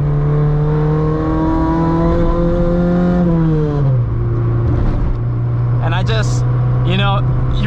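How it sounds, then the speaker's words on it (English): Honda Civic EF hatchback with a D-Series engine revving through a downshift, a loud raspy drone that climbs, dips sharply and settles, heard from inside the car, with someone talking over it near the end. "you really get that Honda rasp with this car and the D-Series engine"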